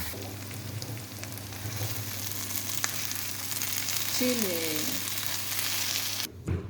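Chilies and garlic sizzle and fry steadily in hot oil for a homemade chili sauce, a close, continuous crackling hiss with some stirring, ending abruptly.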